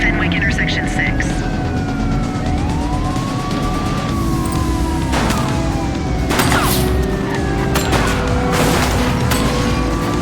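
Gunfire in the police video game The Precinct: several sharp shots crack out over the loud, continuous wail of police sirens and traffic noise.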